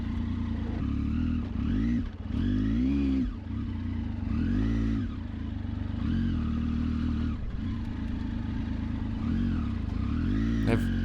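A Triumph Tiger 800XC motorcycle climbs a loose desert wash. The engine revs up and drops back repeatedly in surging bursts, loud and close, over a steady rumble, with no voices.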